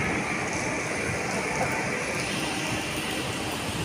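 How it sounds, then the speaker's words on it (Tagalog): Rain falls in Singapore as a steady, dense outdoor hiss, close and even, with no pauses. "It's raining."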